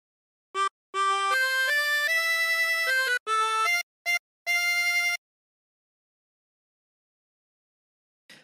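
A 16-hole tremolo harmonica plays a phrase of Home on the Range, with clear, bright sustained notes in short separate bursts followed by silence.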